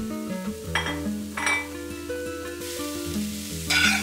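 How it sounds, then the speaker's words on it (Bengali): Chopped ash gourd is stirred into coriander and cumin powder frying in a pan, giving soft sizzling and a few sharp utensil clinks against the pot, with a steady tonal background running throughout. "অল্প নাড়াচাড়া করে দিয়ে দেবো কুচিয়ে রাখা চাল কুমড়োটা"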